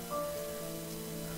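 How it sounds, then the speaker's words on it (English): Steady rain hisses in the video game Heavy Rain, a constant wash of patter under a sustained tonal hum. "It's very rainy too."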